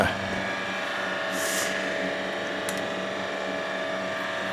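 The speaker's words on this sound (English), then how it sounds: "I'll take a 40 grit on a DA on this metal and see what I can get done here" A dual-action sander with 40-grit paper works over bare metal on a 1929 Chrysler coupe, giving a steady, unbroken whirring drone that holds at an even level from start to finish.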